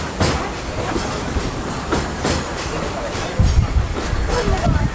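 Disney World's Fantasyland steam train rolling on rails, giving close, steady clickety-clack of wheels over track joints with a hissing, rumbling undertone that swells toward the end.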